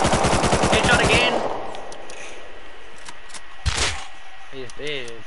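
Rapid automatic gunfire in the online survival game Rust comes as a loud close burst for about a second, followed by a few fainter distant shots and game sounds.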